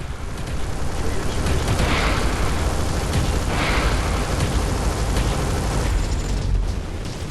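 Torpedo explosions battering ships in the space shooter Everspace 2, a dense, loud rumbling roar with repeated booming bursts across the stretch, a voice talking over the din.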